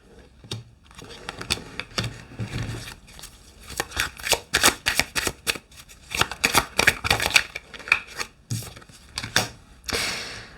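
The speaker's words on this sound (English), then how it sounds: "I shuffled the cards accidentally" A deck of tarot cards is shuffled by hand in repeated rapid bursts of riffling and slapping, close and crisp, with brief pauses between rounds.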